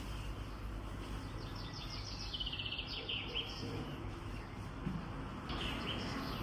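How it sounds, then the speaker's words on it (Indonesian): Many birds chirp and sing together outdoors in spring, a steady chorus of faint high tweets layered over a low background rumble, heard through an open window. "Teman-teman dengar kan suara burung-burung banyak kan berkicau"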